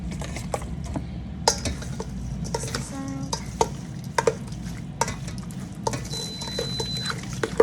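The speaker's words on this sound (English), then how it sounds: "Okay, And I'll mix this up." A spoon stirs sriracha and spices into a jar of pressure-canned fish, giving a steady run of scraping and clinking strokes with sharp metallic ticks, close and moderately loud, with no talk.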